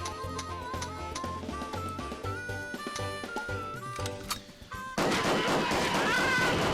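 Gunfire from the retro shooter Chicken Blaster, where chickens wield war-type weapons: a run of sharp shots over steady game music, ending in a loud sustained noisy burst.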